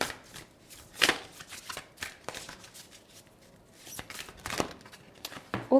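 A deck of oracle cards is shuffled close by, soft papery riffles and flicks in quick irregular bursts, fairly quiet with brief gaps between handfuls.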